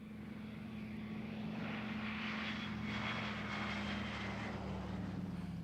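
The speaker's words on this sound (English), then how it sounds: "feathered his right-hand engine to demonstrate its single-engine handling" A twin-engine propeller aircraft at an air pageant, flying on one engine with the other feathered, drones past as a steady low engine hum and prop buzz that swells slightly mid-pass, with no voices.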